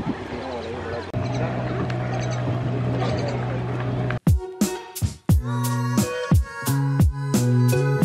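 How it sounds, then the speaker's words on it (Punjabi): A steady low engine drone from a boat on a 20-minute tour of the Rawal Dam lake in Islamabad runs for about four seconds, then gives way to close talking voices. "ਅਸੀਂ 20 ਮਿੰਟ ਦਾ ਬੇੜੀ ਵਾਲਾ ਟੂਰ ਅਸੀਂ ਜਿਹੜੀ ਲੇਕ ਹੈ ਨਾ ਝੀਲ ਹੈ ਜਿਹੜੀ ਰਾਵਲ ਡੈਮ ਹੈ"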